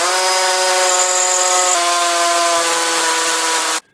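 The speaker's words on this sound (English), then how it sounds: "Bring the drill out of the hole now and again to clear the dust" A power drill bores into a clay brick wall, a loud, steady whining grind that holds nearly four seconds with slight pitch dips before cutting off abruptly, close and alone.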